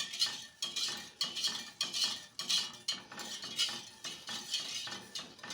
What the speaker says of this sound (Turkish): Şekerim eriyinceye kadar karıştırıyorum.